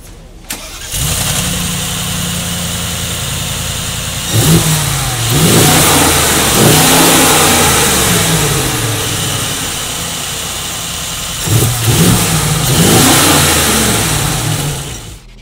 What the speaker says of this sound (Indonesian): Hal yang paling ditunggu pasti adalah suara startup dari si G63 ini